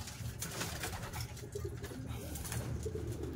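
Racing pigeons coo steadily at a loft before a summer training race, a close, low rolling murmur of several birds overlapping throughout, with faint background noise and a little talk.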